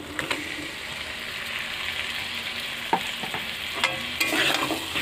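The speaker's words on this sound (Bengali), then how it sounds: "ম্যারিনেট করা মাংসটা দিয়ে ভালোভাবে কষিয়ে নিতে হবে" Marinated chicken pieces fry in spiced oil as they are turned, with a steady close sizzle broken by a few scraping stirs, loud and continuous with no voices.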